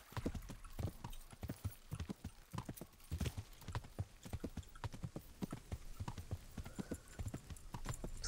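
Steady, rhythmic clip-clop of a horse's hooves in the video game Medieval Times, continuing at an even trotting pace throughout.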